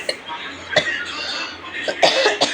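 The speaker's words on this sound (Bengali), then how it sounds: "খুব কাশিও হয়েছে জানো তো বন্ধুরা, খুসখুস করছে গলাটা।" A person with an itchy, irritated throat gives three short coughs indoors, one early and two close together near the end, over a low background hum.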